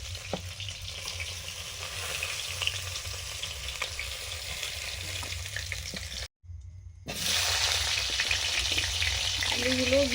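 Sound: fish frying in oil

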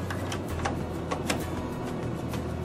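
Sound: cleaning cassette installed into Zebra ZXP Series 8 card printer

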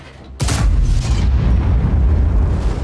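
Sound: tank gun shot in a tank video game

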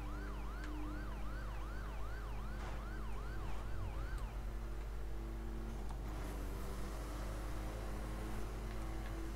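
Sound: police siren from video game The Crew

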